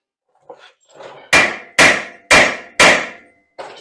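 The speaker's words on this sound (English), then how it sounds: "I recommend a brass hammer." Four loud, evenly spaced metallic strikes of a brass hammer ring out on a 2008 Hyundai Elantra rear brake rotor, preceded by faint handling clatter and followed by a lighter tap.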